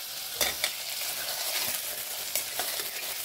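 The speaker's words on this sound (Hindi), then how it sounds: "तो प्याज के साथ चनों को हम 2-3 मिनट तक भून लेंगे कवर करके।" Chickpeas and onion fry in a covered pressure cooker, giving a loud, steady sizzle close by with a few sharp stirring scrapes.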